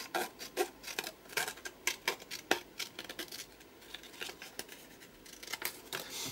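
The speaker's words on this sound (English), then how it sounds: "I'm going to cut that side in an arrow, like that" Scissors cut through paper for a craft project, a quick run of crisp, close snips in an irregular rhythm with a brief pause midway.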